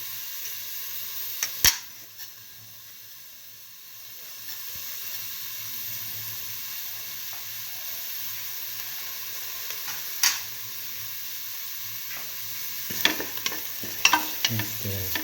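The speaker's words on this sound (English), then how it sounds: "Mix the fennel seeds with the onions and salt. Keep on sauteing." Fennel seeds sauteing with onions and salt for a split mung bean and tomato stew, a soft steady sizzle running throughout with a few sharp scrapes and clicks of stirring.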